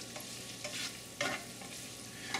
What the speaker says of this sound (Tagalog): Since mainit tong ating lutuan, sandali lang, tunaw agad yung butter.